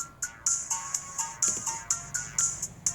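A mobile phone rings with a bright electronic ringtone of rapid, evenly spaced beeping pulses that repeat steadily and sound close and clear, with no talk over it.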